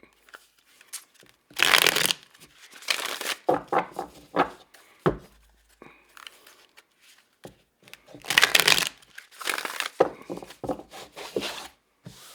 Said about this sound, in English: Just going to give it a good shuffle